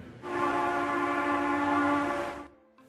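A train horn blows one long, steady, loud blast with a rich harmonic tone over the rumble of a train, then cuts off, leaving a faint rail rumble.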